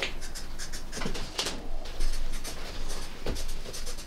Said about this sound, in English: once you measured your chalk marks, you just draw them out.